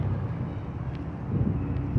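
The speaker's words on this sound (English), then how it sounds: "It's in the 50s today, but it's windy, so I apologize if that's what you can hear." Wind gusts along a woodland nature trail on a cool day, a steady low rumble of buffeting against the microphone that grows slightly stronger toward the end.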